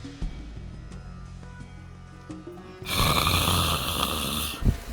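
Loud snoring from a sleeping soldier, starting partway through and continuing as a harsh, sustained rasp. Quieter ambient sounds precede it.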